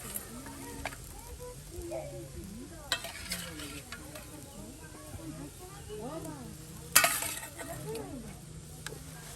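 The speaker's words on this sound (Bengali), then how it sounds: "এই যে দেখুন আপনার এখন ভাজা মাছগুলো দিয়ে দেওয়া হচ্ছে।" Fried fish pieces tumble into okra curry sizzling in a pan, followed by steady stirring with scattered clinks and scrapes, all under a continuous frying hiss, with a sharper clatter near the end.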